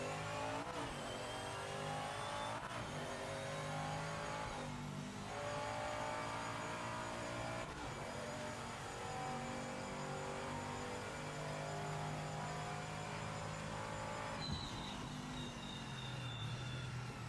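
A race car's engine revs hard and continuously in a sports car racing game at night on the Monza circuit, the car damaged at the rear after a crash; loud, sustained whine with gear-shift dips and shifting pitch throughout.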